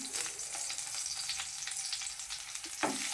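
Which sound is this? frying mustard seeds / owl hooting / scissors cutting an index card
frying mustard seeds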